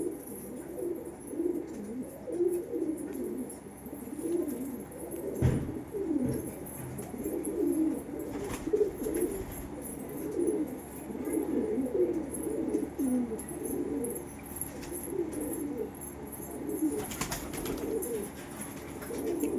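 Andhra breed pigeons, including males in a home loft, coo in repeated low throbbing phrases, steady and fairly near, with soft rustling and a few faint knocks in the background and no talk.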